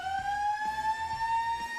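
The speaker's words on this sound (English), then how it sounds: "As that siren indicates, the team's ready to come back onto the ground." A ground siren sounds at a women's football match, South Fremantle versus Claremont, as one loud, sustained, steady tone over faint background bumps and noise, with no talk.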